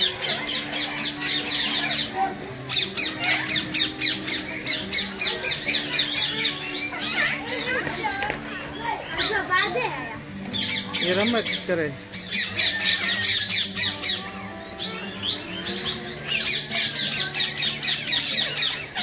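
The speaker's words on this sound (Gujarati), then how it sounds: "તો આ પહાડી પોપટ નો વિડીયો છે" Five hill parrots at Junagadh zoo give loud, harsh squawks and shrill squeals in rapid repeated bursts through most of the stretch, close by, with a voice and other talk mixed in.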